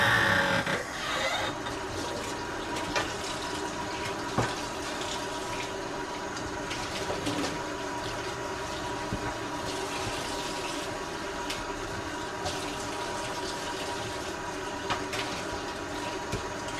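Steady rush of water running from a kitchen tap while dishes are washed, a continuous broadband flow with occasional faint clinks, close and alone without talk.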